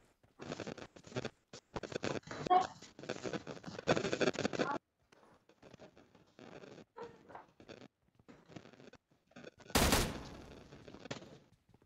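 Gunfire in the PUBG Mobile game: bursts of rapid shots crackle through the first five seconds, then scattered lighter pops follow, with one sharp loud report near the ten-second mark.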